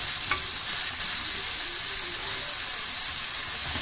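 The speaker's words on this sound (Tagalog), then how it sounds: "Sizzling." Cut mushrooms sizzling and frying in a pan for a homemade ginisang miswa, a steady close hiss with occasional stirring and no talk.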